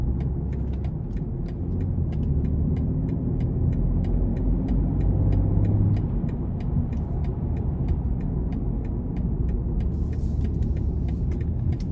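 2020 BMW M340i cruising gently in Eco Pro mode, a low steady engine and road rumble heard from inside the cabin, smooth and subdued with faint regular ticking throughout.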